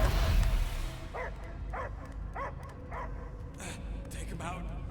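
A dog gives a series of short, evenly spaced barks and yips at moderate distance, following a louder rumbling burst at the start, set against a low continuous background hum.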